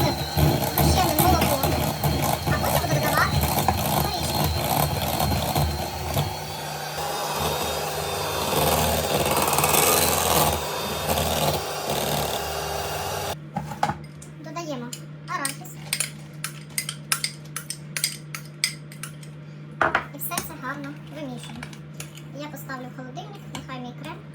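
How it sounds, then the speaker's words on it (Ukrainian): An electric mixer whirs steadily while beating butter for a cake cream, with clinking bowl and utensil clatter and a voice talking over it. "Зараз вбиваємо масло."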